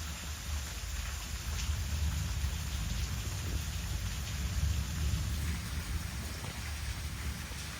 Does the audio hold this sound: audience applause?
no